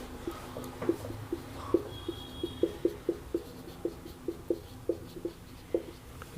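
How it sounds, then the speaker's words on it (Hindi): A pen or marker writing the number 4 on a board, giving a run of short, regular strokes and taps close by, moderately loud over a quiet room. "पहले 4 लिख लेते हैं।"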